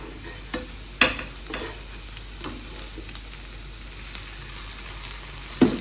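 Ginger garlic paste sizzling in hot oil in a pan as it is stirred, a steady frying hiss broken by a few sharp clacks of the spoon against the pan.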